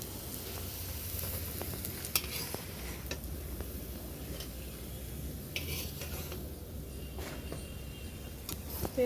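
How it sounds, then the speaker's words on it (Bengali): Chana dal and egg fritters sizzling in hot oil in a kadai, a steady crackling fry with occasional sharp utensil clinks and stirring scrapes, no talking. "এরকম ভাবে সব বড়াগুলো ভেজে নেব"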